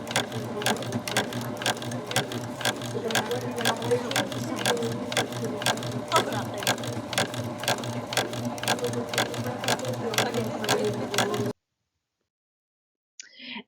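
Baby Lock Applaud coverstitch machine stitching at a fast even pace, a loud mechanical rattle of rapid needle strokes that runs for several seconds, then stops abruptly into silence with a faint sound at the very end.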